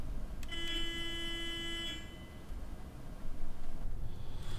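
A city bus in the OMSI 2 driving simulator gives one sustained horn honk lasting about a second and a half, loud and near, followed by quieter game ambience.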